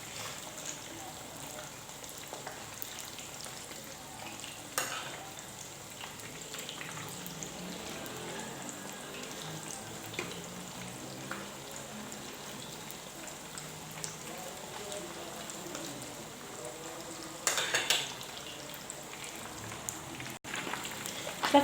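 Sardines frying in hot oil in a home kitchen, a soft, steady crackle and sizzle of spattering droplets, with a few louder pops and clatters near the end.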